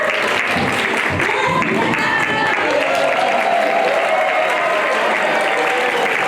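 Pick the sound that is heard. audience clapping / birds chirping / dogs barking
audience clapping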